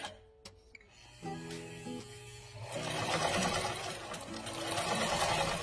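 Sewing machine stitching slippery knit fabric for a scrunchie, starting slowly with a few short bursts before running into a steady, continuous close whir.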